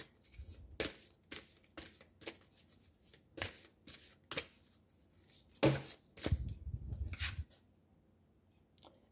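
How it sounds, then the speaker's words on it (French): Oracle cards being shuffled and drawn by hand, a series of soft, quick riffling and flicking bursts with pauses between, close and quiet, with no talk. "on va y aller avec peut-être 2 petites cartes de la vague des rebelles sacrés"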